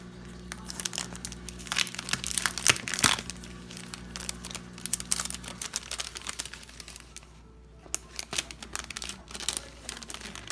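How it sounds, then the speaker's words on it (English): Crinkling plastic packaging being unwrapped from a vinyl sticker pack, close up, with uneven rustles and crackles that quiet down partway through. "here we have got a vinyl sticker pack"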